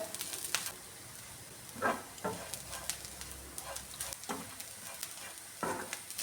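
Chopped ginger frying in a pan over a medium-low flame, a soft steady sizzle broken by several scraping stirs of a spoon, close and fairly quiet.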